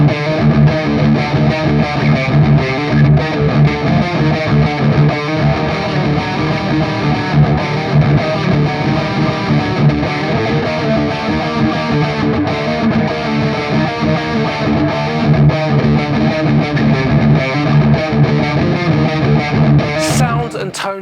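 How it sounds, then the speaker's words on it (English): A Schecter Sun Valley Super Shredder III electric guitar plays through a Fractal FM9 on a heavy distorted preset, a dense, loud, continuous chugging rhythm sustained for about twenty seconds with no pauses. "I was playing this through my Fractal FM9, and for all the dirty stuff I was just playing through the stock diesel VH4 preset"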